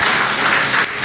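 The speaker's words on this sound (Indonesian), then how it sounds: "Saudara menyambut dengan tepuk tangan" Church congregation applauding during a sermon: dense, steady clapping from a large crowd, loud and continuous for the whole short stretch.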